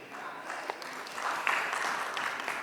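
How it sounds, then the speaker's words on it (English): Moderate clapping from a crowd, rising and filling out after a second or so, steady and a bit distant. "Let's welcome them with a big applause."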